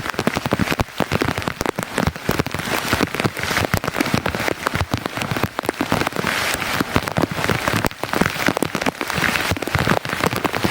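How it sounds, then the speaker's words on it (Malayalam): Heavy rain pours down steadily and loudly, a dense, constant hiss with sharp patters throughout and no voices. "ഭയങ്കര മഴയാണ് കേട്ടോ ഇവിടെ ഭയങ്കര മഴയാണ്"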